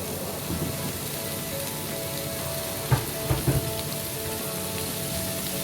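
Onions and tomatoes soften as they fry in a pan for palak paneer, giving a steady, moderate sizzle throughout with a few sharper clinks or stirring knocks near the middle and no voices.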